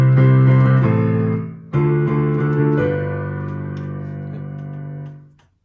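Piano plays the intro of a song, sustained chords ringing out loud and clear, changing twice before fading, with no voices.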